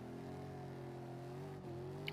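A car engine revs steadily in a street-racing video game, a smooth sustained engine drone with layered tones. It is fairly quiet, with a brief dip partway through and no talking.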